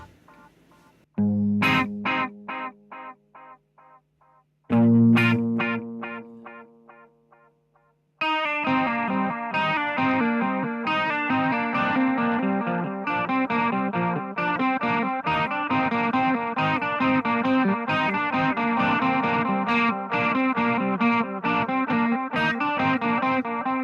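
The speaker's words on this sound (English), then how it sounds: "I normally have the chorus on for that. It's a nice ambient, tight, controlled sound." An electric guitar rings out a few shimmering chords, then settles into a steady, tight strummed rhythm with a watery, wavering chorus tone.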